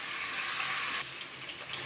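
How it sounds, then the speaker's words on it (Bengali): Small potato pieces fry in a pan with a soft, steady sizzle for a brief moment. A slight shift midway sounds like stirring. "ছোট ছোট টুকরো করে কেটে রাখা আধা কাপ আলুটাকে দিয়ে একটু ভালো করে নাড়াচাড়া করে একটু ভাজা ভাজা করে নেব"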